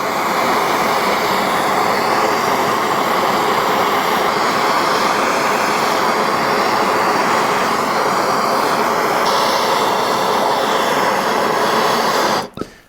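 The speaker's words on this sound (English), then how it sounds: "burning off all the oil and moisture with a map torch here" A MAP gas torch burning oil and moisture off an Isuzu 4BD1T excavator engine block, a loud, steady close roar that holds without a break until it cuts off abruptly near the end.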